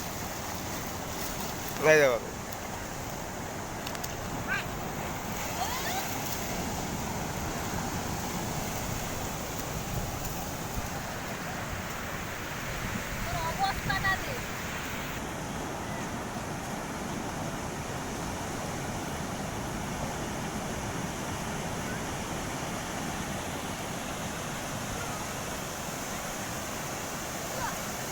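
Sea waves on Puri beach in Odisha, a soft, steady wash of surf running beneath people talking, with a few louder bumps along the way.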